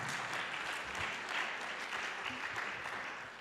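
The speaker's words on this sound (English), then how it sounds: "I think they all deserve a big hand clap." Sustained audience applause at a forest sector investment dialogue after a session's presentations, a broad, steady wash of many hands clapping that eases off slightly at the end.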